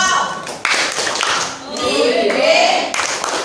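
A group at a school gathering claps a rhythmic cheer, sharp hand claps in quick patterns mixed with voices, close and fairly loud over about three seconds.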